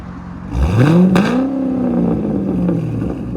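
A 2006 Chevy Corvette with a muffler delete pulls away, its exhaust revving up sharply into a loud, throaty roar close by, then settling into a steady drone as it drives off.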